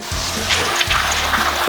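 Water splashing and pouring onto a garden bed to water in eggshells, a loud close gush with brief gurgling surges, no talking.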